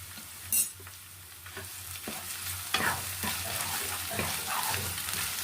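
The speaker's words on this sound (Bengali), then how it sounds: "এবার দেবো আমি সামান্য একটু আদা রসুনের পেস্ট।" Ginger garlic paste sizzles and spatters in hot mustard oil while being stirred for begun bhorta, a close, steady frying hiss with scraping stirs and a sharp burst near the start.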